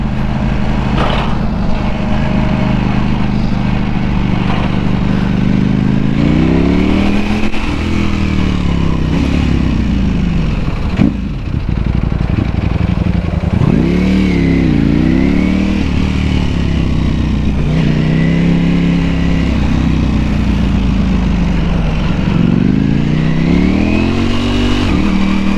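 A Ducati Panigale V4S sport motorcycle ridden in cold weather, its engine droning steadily and loud throughout, with rising and falling pitch sweeps as the rider shifts through gears and changes speed.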